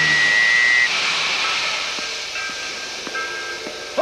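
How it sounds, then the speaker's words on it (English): A steam boat train waits at a platform, sending out a loud, steady hiss of steam with a brief whistle tone at the start and a few faint metallic knocks. "Boat train leaves in 5 minutes."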